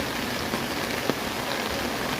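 Heavy rain pours down steadily over a flooded street in Dhaka, a dense, even hiss of falling drops close by with a few louder splashes, no voices.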